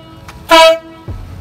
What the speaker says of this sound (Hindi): और अभी एक बार जो है इसके हॉर्न की भी आवाज़ मैं सुना देता हूँ किस तरह की आपको मिलती है।